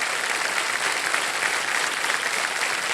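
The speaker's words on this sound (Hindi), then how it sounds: "तालियां बज जाए" Studio audience on a Hindi television quiz show, Kaun Banega Crorepati, bursts into steady, dense applause that fills the room evenly for a few seconds with no talk over it.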